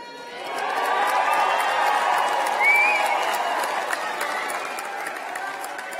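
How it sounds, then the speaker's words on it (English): Graduates at a university graduation ceremony cheer and clap for their supporters, a broad crowd roar that swells quickly, holds for several seconds and then slowly fades. "doff your caps to your supporters and give them a cheer"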